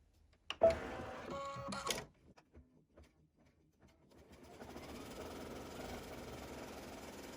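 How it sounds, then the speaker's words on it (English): An embroidery machine sews an applique placement stitch. A few sharp clicks and a short burst of mechanical whirring open the clip, then a steady, even stitching hum runs from about the middle to the end, moderately quiet and close. "The first thing we're going to do is stitch our placement stitch."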